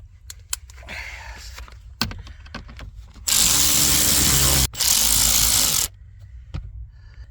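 A power tool whirs in one steady, loud burst lasting a couple of seconds while a battery terminal is tightened on a Dodge Durango, with scattered small knocks and handling noises before and after.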